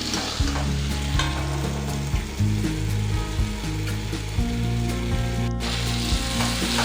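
Okra stir-fry stirred in a hot pan, a continuous close sizzle with rhythmic scraping and clinking strokes of the spatula against the pan, loud and steady throughout, with no speech.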